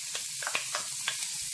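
Chopped onions frying in oil in a pan for a Nigerian fish roll filling, a soft steady sizzle with a few light crackles, close and fairly quiet.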